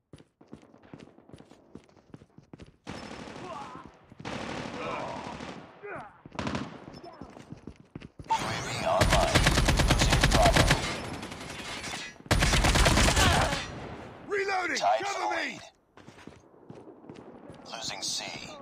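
Gunfire in Call of Duty Mobile, with scattered shots early and then long loud sustained automatic bursts, interspersed with in-game radio voices and footsteps.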